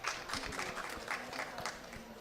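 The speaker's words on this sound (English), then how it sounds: "Please, a round of applause." A modest audience claps after a conference presentation on a just transition, the applause fairly quiet and somewhat distant, with individual claps distinct within a short, steady round.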